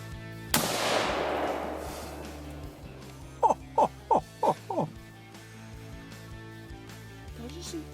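A single loud rifle shot during a hog hunt rings out and decays, followed by several short squeals from hogs, with quiet voices talking in the background.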